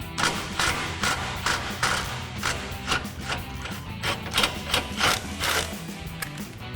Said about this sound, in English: So I've got a 13 millimeter swivel socket on an extension to pop this off.